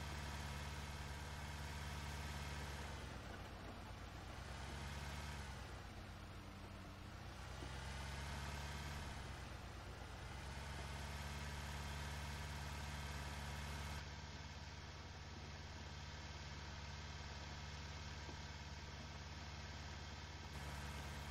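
A Kubota skid steer runs steadily while plowing snow in a commercial parking lot, its engine droning loud and continuous with a low rumble that swells and eases slightly, no voices present.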